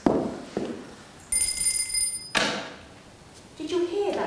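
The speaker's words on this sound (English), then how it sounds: "Did you hear that bell ring?" A small bell rings in a household, a bright sustained chime standing out between knocks and thumps, with people talking around it.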